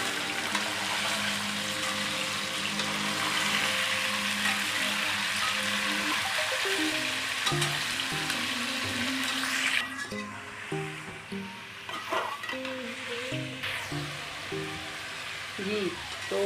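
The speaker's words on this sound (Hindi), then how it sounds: "कुकिंग ऑयल हम कढ़ाई में डाल के गर्म करेंगे और उसमें अपना चिकन फ्राई करेंगे" Chicken frying in hot ghee and oil in a karahi, a loud steady sizzle and crackle at first that drops off partway, leaving quieter spitting under a speaking voice.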